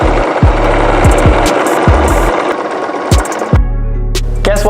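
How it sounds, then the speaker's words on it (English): A sewing machine stitches a T-shirt in several short bursts of motor whir with brief pauses between, loud and close, with no talking. "Let's sew it."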